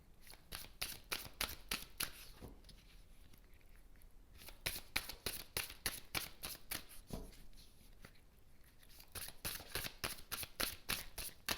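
A deck of oracle cards is shuffled by hand close up, giving rapid, crisp riffling flutters in repeated bursts with short pauses between them.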